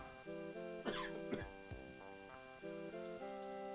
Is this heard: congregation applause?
no